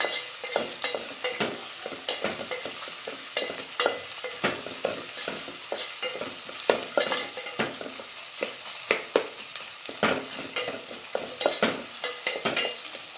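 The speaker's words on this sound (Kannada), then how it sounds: "ಹಾಗೆ ಈರುಳ್ಳಿ ಫ್ರೈ ಆಗಲಿ" Onions frying in a pan with a steady crackling sizzle, stirred throughout with repeated scraping strokes, close and fairly loud with no voices.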